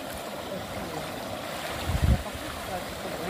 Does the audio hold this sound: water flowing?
yes